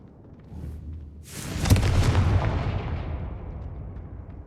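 Confringo fire spell in Hogwarts Legacy bursts with a sudden loud blast, then a rolling explosive roar that slowly fades over a few seconds, heard alone.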